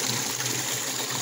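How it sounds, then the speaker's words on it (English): Water running to rinse soap out of a laundry detergent cap, a steady close gushing and splashing stream. "Rinse the cap out. Get all that soap out of there."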